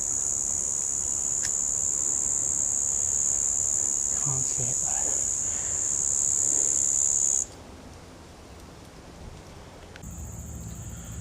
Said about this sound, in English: You can hear the cicadas. They're right there in this tree.